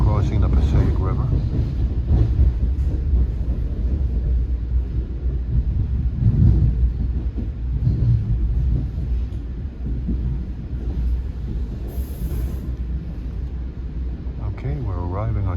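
An NJ Transit train rumbles across the Passaic River bridge approaching Newark Penn Station, a heavy low continuous rolling drone heard from inside the car, with a voice speaking over it.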